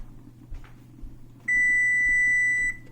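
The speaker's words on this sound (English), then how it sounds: "There's the timer." After some quiet background rumble and small kitchen noises, a kitchen timer gives a single steady electronic beep for over a second, shrill and fairly loud.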